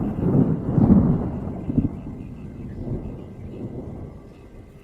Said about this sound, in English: At that moment, thunder rumbled in the sky.